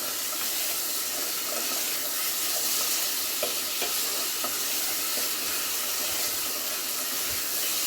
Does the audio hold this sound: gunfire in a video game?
no